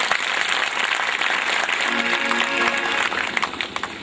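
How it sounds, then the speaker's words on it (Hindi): Clapping from a congregation at a religious gathering, a continuous, fairly loud wash of applause with faint tonal sounds in the background. "एक बार तालियां हो जाए भाई जी।"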